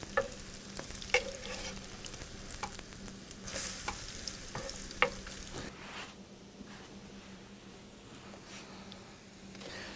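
Sweet potato latkes frying in a pan as they are turned over, a constant close sizzle with spatula scrapes and taps, the hiss easing slightly in the latter half.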